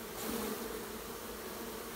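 Insects buzz close to the ear in a sawdust-strewn setting, a steady, loud drone with a brief rise early on, alone with no talk.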